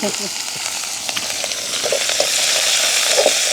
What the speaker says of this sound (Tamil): அதோட வந்து வெங்காயம், பச்சை மிளகாய், கருவேப்பிலையும் போடுவோம்.